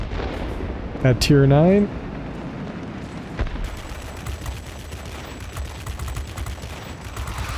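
Aircraft guns on an F7U Cutlass jet fire in World of Warplanes in a steady rapid rattle under continuous engine roar, with a brief tonal game sound near the start and someone talking over it.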